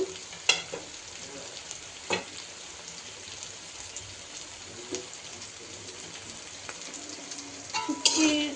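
Chopped data, spinach and radish greens fried with dried fish in a pan, a continuous close sizzle with occasional scraping stirs and light clatter of the spatula.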